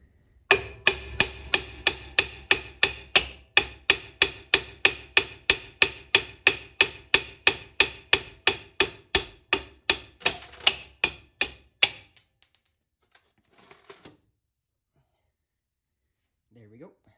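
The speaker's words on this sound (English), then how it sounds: "you're gonna take your hammer and pound out the old one." A hammer pounds an old wheel stud out of a 1977 Chevy Camaro wheel hub, about thirty sharp metallic strikes in a fast, steady rhythm, loud and close, followed by quiet with a couple of faint clinks.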